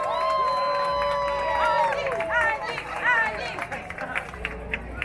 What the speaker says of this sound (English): Finishers, make some noise for our ladies and gentlemen. A round of applause.